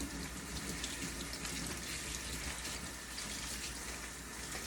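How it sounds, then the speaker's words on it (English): Tap water runs steadily into a kitchen sink as vegetables are rinsed, a continuous close gushing splash without talk. "I'm gonna rinse these because I don't know if they've been pre-washed."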